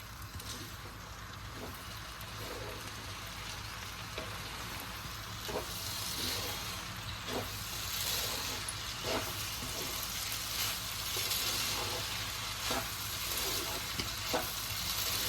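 Vermicelli vegetable fried rice being tossed in a pan, with a low continuous sizzle and regular clacking scrapes of a utensil mixing it, at moderate distance.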